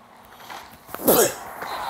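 A single sharp sneeze bursts out in the middle, preceded by a quick intake of breath and followed by faint background noise, close and fairly loud.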